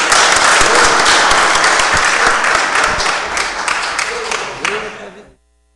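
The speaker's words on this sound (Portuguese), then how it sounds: "conclamo a todos um salve de palmas para o Ideal Nacional." Loud, close applause breaks out in a legislative chamber as a session closes, with brisk clapping that gradually thins, some talk mixed in, before cutting off abruptly.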